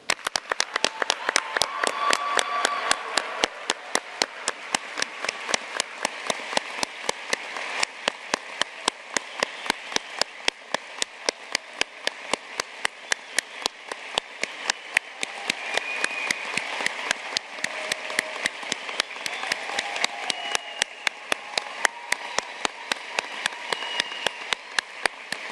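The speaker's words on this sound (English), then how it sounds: "So please join me in the first round of applause for our amazing graduates." A large audience at a University of Edinburgh graduation ceremony applauds the graduates in a sustained, dense wash of clapping that continues evenly throughout.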